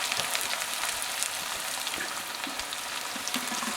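Mustard seeds splutter and crackle in hot oil, a steady spray of small sharp pops over a bright, continuous sizzle, tempering for a Kerala-style pork fry.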